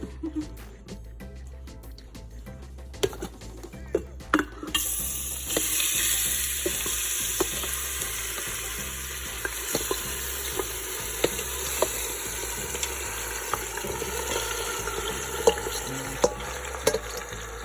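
Curry powder hitting hot oil in an Instant Pot for curry goat: a few knocks and clatters, then a steady bright sizzle and frying hiss with occasional stirring taps, close up and without talk.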